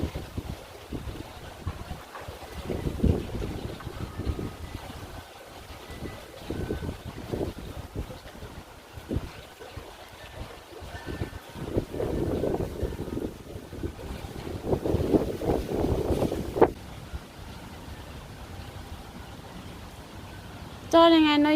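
Strong outdoor wind gusts across a microphone in a yard where a golden retriever plays with a ball, rumbling in uneven bursts of varying loudness, with a woman calling to the dog at times.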